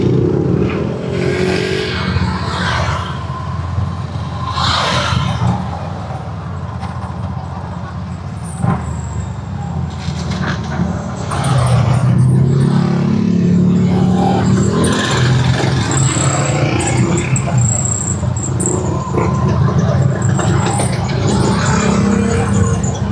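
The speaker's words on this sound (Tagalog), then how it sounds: "Napakalakas ng segunda nitong itong Bajaj RE." A Bajaj RE auto rickshaw engine pulls steadily in second gear while climbing, a continuous close motor drone with small throttle swells and no talking.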